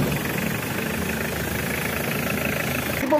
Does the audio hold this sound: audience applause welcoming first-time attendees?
no